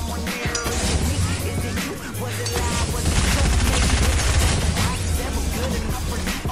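Rapid bursts of automatic gunfire and explosions from a Fortnite match, loud and dense throughout with overlapping shots and crashes.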